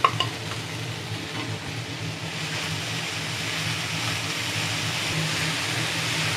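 Ginger, garlic, green chilli and curry leaves sauté in a pan for a Kerala-style coconut milk green peas curry, giving a steady, fairly loud sizzle and frying hiss with occasional stirring scrapes throughout.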